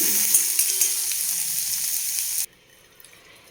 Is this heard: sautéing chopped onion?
yes